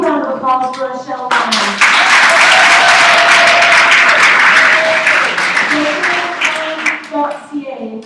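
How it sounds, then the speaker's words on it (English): An audience at an Open Cinema discussion event breaks into loud, sustained applause that swells quickly and holds steady before tapering off, with a voice speaking briefly at the start and end. "A big round of applause for Rochelle."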